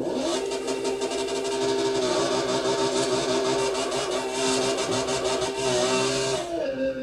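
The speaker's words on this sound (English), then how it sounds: "Because if you were redlining like this," Car engine held at redline before a drag race launch, a loud, steady high-pitched rev that drones continuously with slight wavering, then drops away at the very end.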